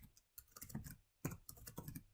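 Quiet, close clicking of keys on a computer keyboard comes in quick irregular bursts with short pauses between, soft and clattery with no one speaking.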